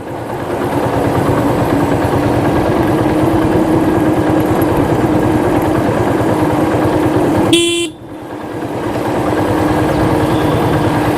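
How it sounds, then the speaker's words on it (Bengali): A motorcycle engine drones steadily on a steep mountain road at Dim Pahar in Alikadam, then a single short horn honk sounds near the end before the engine note dips and rises again; no talking. "একটু হর্ন টর্ন মাঝে মধ্যে দেই"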